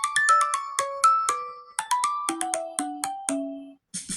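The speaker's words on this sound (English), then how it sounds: "Falling Star." Samsung ringtone Falling Star, a clear run of plucked bell-like electronic notes stepping downward in pitch, about a dozen quick strikes each decaying, played alone and fairly loud.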